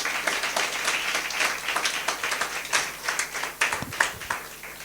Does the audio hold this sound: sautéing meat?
no